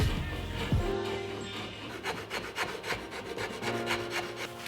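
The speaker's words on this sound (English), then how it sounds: "the majority of the time I'm using the Shinto rasp, especially as I'm getting down to the rough shape." A Shinto rasp rubs back and forth across the wooden neck of an acoustic guitar as it is carved to rough shape. The rasping strokes repeat in a steady rhythm, close and moderately loud, with no one talking.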